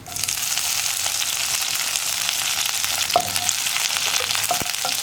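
Curry leaves and dried red chillies crackle and sizzle steadily in hot coconut oil with popping mustard seeds, a loud continuous frying hiss with a few sharper pops.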